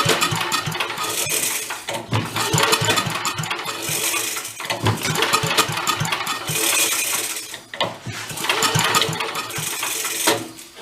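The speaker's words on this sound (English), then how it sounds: "Popping back through the carburetor." A vintage Mite-e-Lite generator engine sputters and pops back through its carburetor, a dense, ragged mechanical clatter with bursts of irregular popping over about eleven seconds, loud and close with no voices.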